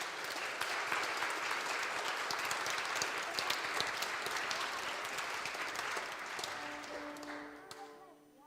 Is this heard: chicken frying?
no